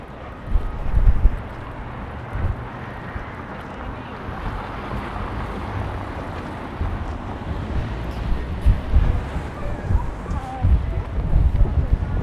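Cold winter wind on a Toronto city street, a loud continuous rumbling gust buffeting the microphone throughout, with faint street noise beneath.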